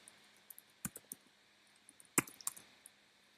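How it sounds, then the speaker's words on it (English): Scattered keyboard clicks from typing on a computer keyboard, a few isolated taps with two louder bursts, close and fairly quiet with no talking. "My typing is terrible."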